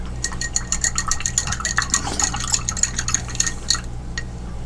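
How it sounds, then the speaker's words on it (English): The dry end of a paintbrush is worked over a landscape painting in quick, rhythmic scratchy strokes, close and fairly loud, with no voices. "then I'll just let the dry end of the brush do what it does."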